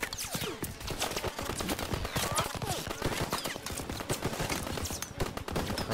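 Sustained machine gun fire in a beach-landing war video game, a dense, rapid, unbroken stream of loud shots filling the whole stretch, with overlapping bursts and no pauses.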